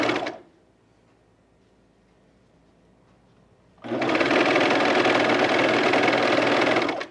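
A sewing machine stitches fabric for pajama bottoms, running loud and steady for a few seconds after a long quiet pause.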